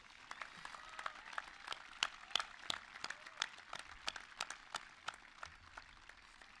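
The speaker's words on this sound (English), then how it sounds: "I guess you could all give our class a round of applause for all of our hard work" Scattered applause from a modest audience at a 2021 high school commencement ceremony, with distinct individual claps of uneven rhythm, fairly quiet and heard from a distance.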